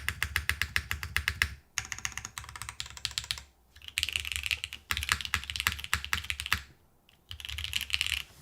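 Typing on a Frog TKL mechanical keyboard, brisk bursts of close, clacky keystrokes in quick runs separated by short pauses, with deeper thocks from the spacebar.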